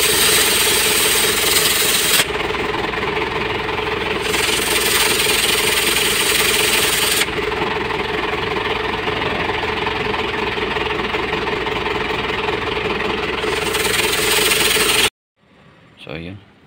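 An Isuzu 4JB1-TC diesel engine idles steadily, heard up close at the exhaust with a weak exhaust flow, for most of the clip. It is a rough continuous rumble, then cuts to near quiet with brief faint sounds at the end.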